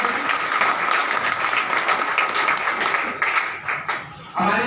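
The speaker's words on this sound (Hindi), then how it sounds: "धीरे धीरे जोरदार ताली बजाइए।" Applause from an audience at a press club political gathering fills the room with steady crowded clapping that fades into scattered claps toward the end, while a voice talks over it.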